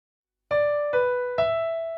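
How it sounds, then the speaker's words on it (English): The bell theme from Mozart's Symphony No. 41 sounds as three clear, ringing, sustained notes in steady succession, each note fading slightly, with no voices. "I call it the bell theme. It sounds like this."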